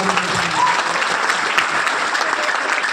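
Sustained applause from an audience at a Nanded gathering, steady and dense clapping that fills the whole stretch with a faint crowd murmur beneath.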